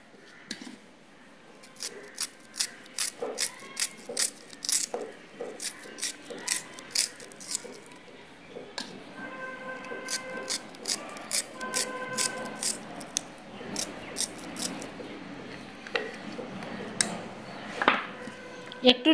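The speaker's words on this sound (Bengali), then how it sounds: "পেঁয়াজগুলোকে কেটে নেই" Onions for a raw taki fish bharta are chopped with a knife, producing long runs of quick, crisp, close taps on a board. The rhythm is steady but broken by short pauses, and a voice speaks faintly now and then.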